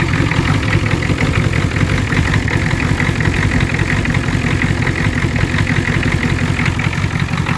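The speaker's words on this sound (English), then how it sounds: "That's a cold start." A 1990 Ford F-250 with the 7.3 diesel idles after a cold start, a steady, loud, close clatter and rumble that holds evenly throughout with no voices.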